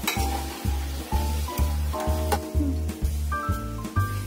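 Masala roti deep frying in hot oil, a loud, steady close sizzle with regular rhythmic bubbling pulses throughout and no voices.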